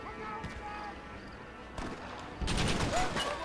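Gunfire in the video game Red Dead Redemption: a few sharp shots crack out over quiet in-game ambience, with a denser burst of firing near the end.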